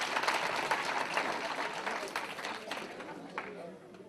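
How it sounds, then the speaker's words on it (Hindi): A crowd at a National Integration Camp leadership session gives a round of applause, a soft, continuous patter of clapping heard at a distance for several seconds before it thins out. "एक बार और ताली बजा दो इनकी सच्चाई के लिए।"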